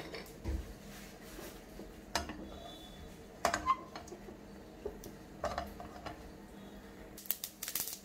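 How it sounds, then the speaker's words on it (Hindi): Mustard seeds crackle in a small amount of hot oil, faint scattered pops and ticks breaking out at irregular moments over a quiet background. "राई तड़कने की आवाज आ रही है"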